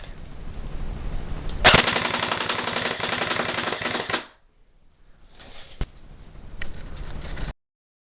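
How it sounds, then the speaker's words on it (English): A Crosman Pulse R76 airsoft gun on full automatic fires a fast, rattling burst of several seconds, then goes quiet and rattles off a second, softer run of shots, each pop close and sharp. "Alright, switching it to full automatic."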